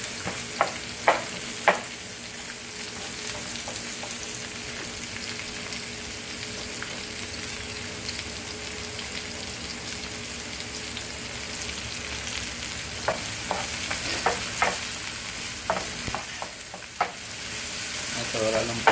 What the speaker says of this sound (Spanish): dorarlo un poco en el aceite.